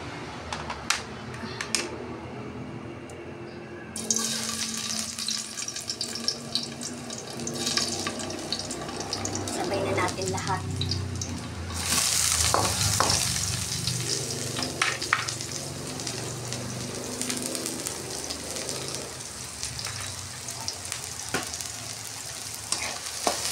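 Garlic sizzles and fries in a pan, a steady crackling hiss with stirring scrapes, and a brief running tap or sink splash mixed in during preparation of a fried fish dish.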